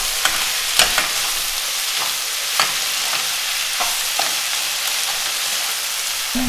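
Noodles with chicken are stir-fried in a wok, giving a steady hiss of sizzling with several sharp clacks and scrapes as the food is tossed and stirred, and no talking.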